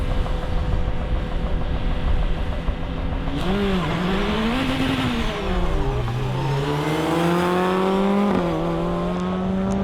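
A Caterham and a Ford Focus RS drag racing on a wet test track, engines revving hard with rising and falling gear-change sweeps, loud and close over continuous road and spray noise.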